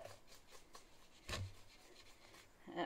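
A utensil scrapes out the soft stringy inside of a cooked spaghetti squash, a series of quiet rasping strokes close up, with one sharper knock partway through.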